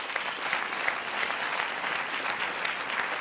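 Conference audience applauding steadily and evenly, a dense continuous wash of clapping that holds at the same level throughout, with no voices above it.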